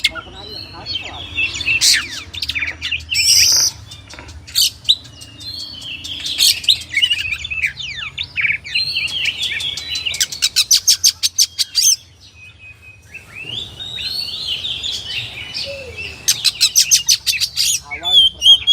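An oriental magpie-robin (kacer) sings loud and close, mixing varied whistles and chirps with bursts of rapid repeated trills, with short pauses between phrases.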